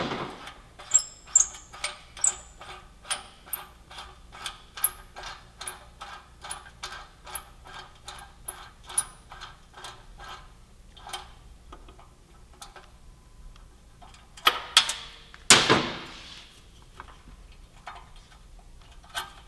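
A ratchet clicks in a long, steady run of quick ticks as a 6mm Allen socket on a universal joint turns an exhaust mounting bolt on a Yamaha YZF-R1M, then pauses before a couple of louder metallic clunks near the end.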